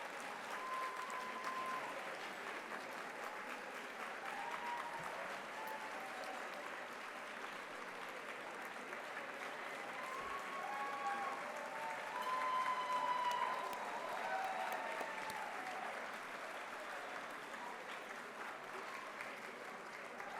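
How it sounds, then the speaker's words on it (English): Audience at a scholarship gala applauding the student winners and their families, a long even stretch of steady clapping from a sizeable crowd, swelling slightly midway, with faint voices under it. "And let's give them a round of applause."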